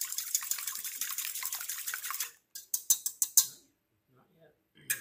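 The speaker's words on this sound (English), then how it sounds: "My whisk, I just wanna break up those eggs a little bit." Metal whisk beating freshly cracked eggs in a bowl, a quick steady run of bright clinking strokes for about two seconds, then a few separate taps against the rim before falling quiet.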